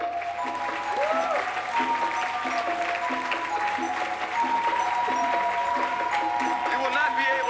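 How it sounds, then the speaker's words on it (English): An audience at the 2021 REVOLT Summit hip hop event applauds its panelists with steady clapping, mixed with music and talk running underneath throughout. "I want you to give a round of applause for our panelists"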